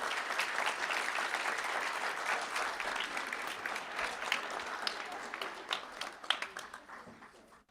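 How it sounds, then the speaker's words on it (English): A school board meeting audience gives Dr. Kraft a round of applause, a long, dense patter of many hands at moderate distance that holds steady and then thins and fades out toward the end. "Let's give Dr. Kraft a round of applause."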